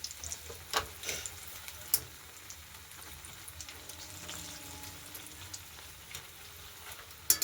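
Potato bhaji frying in hot oil, a quiet steady sizzle and crackle with a few faint clicks and knocks of utensils, no voices.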